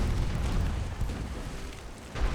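A torpedo strikes the German ship Trier in the naval game UA: Dreadnoughts, a deep rumbling boom with sustained low roar that swells again near the end, loud and close with no talk.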